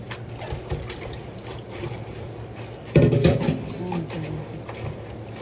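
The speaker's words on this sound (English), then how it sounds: "now I'm rinsing it for the second time" Red lentils rinsed in water for a second time give a soft trickle, then a louder splash and slosh midway as the grains are swirled, close and fairly quiet overall.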